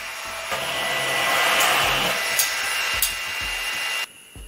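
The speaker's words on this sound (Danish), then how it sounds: "Sådan en lille bitte støvsuger." A tiny mini vacuum cleaner runs close by with a steady whirring hum for about four seconds, with a few small knocks and bumps. It cuts off abruptly near the end.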